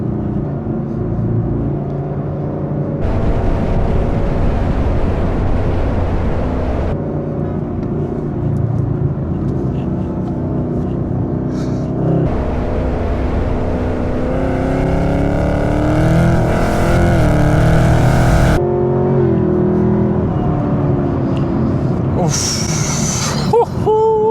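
A Chevrolet Camaro ZL1 muscle car's engine drones and rises in pitch as it drives fast, loud and close throughout, while people talk over it.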